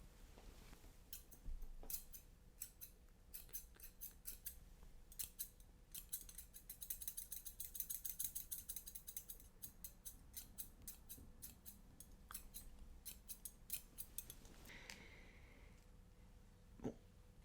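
Scissors snipping through hair at a hairdresser's salon, quick close runs of crisp metallic cuts with short pauses between bursts and no talking.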